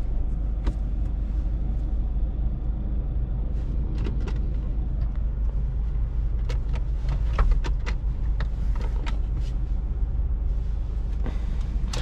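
A Mercedes A250 driving along, its cabin filled with a steady low road rumble and engine hum, with occasional faint clicks and knocks over the continuous noise and no talking.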